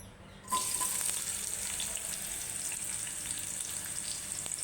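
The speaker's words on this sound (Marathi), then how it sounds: "कांदा भाजून घ्यायचा" Onion hits hot oil in a kadhai and breaks into a sudden loud sizzle, then keeps frying with a steady hiss and faint crackles, close up, with no one speaking.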